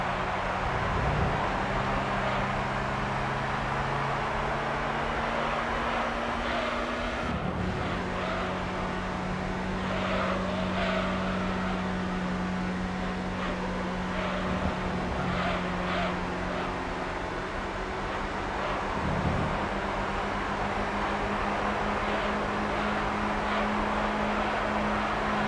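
Race car engines from the video game Gran Turismo 3 drone steadily in sustained tones, with shifts in pitch as the cars accelerate and gear changes break the whine, and no talking.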